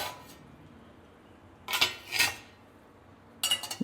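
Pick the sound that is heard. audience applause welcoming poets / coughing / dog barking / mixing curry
mixing curry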